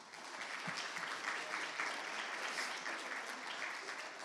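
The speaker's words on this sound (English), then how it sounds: "A big round of applause for Miss Elaine." Steady applause from an audience at a poetry recitation event, continuous clapping filling the whole stretch at an even level with no voices standing out.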